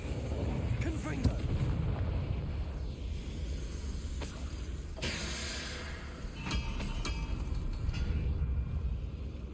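Confringo spell explosions in a Hogwarts video game: repeated sharp blasts and booming bursts over a dense, continuous rumbling battle backdrop, loud and close, with several distinct crackling impacts.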